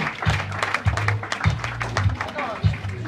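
Applause from an audience at a student awards ceremony in Montpellier, a steady wash of clapping with a few heavier thumps, mixed under ongoing voices in the room.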